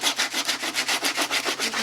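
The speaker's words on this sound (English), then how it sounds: "They are a rough cut, so we need to smooth them out. And we're just using a sheet of sanding paper." Sandpaper rubs back and forth over a rough-cut wooden rolling pin, about eight even scratchy strokes in steady rhythm, close and clear with no talking.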